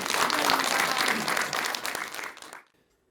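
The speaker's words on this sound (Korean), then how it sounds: "여러분 박수 부탁드릴게요" An audience at a Buddhist monk's lecture on Buddhist psychology and communication gives warm, full applause. It holds steady for a couple of seconds, then tapers and drops into silence.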